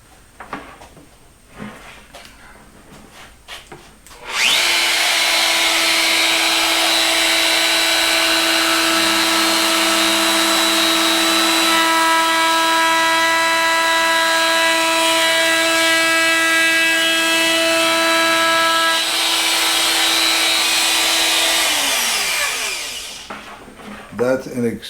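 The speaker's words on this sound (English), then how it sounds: "I'm going to go ahead and put just a light chamfer on this side, get the planer out here," Electric power planer chamfering the edge of a wooden edge-grain cutting board, spinning up loud with a steady high whine and strong harmonic hum that holds for nearly twenty seconds before winding down, with quiet handling sounds at either end.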